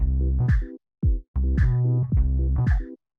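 Organ chords from a production, pulsed rhythmically by an LFO Tool effect, hitting three times in swelling bursts with short gaps, each hit slightly louder or quieter than the last, with no voices.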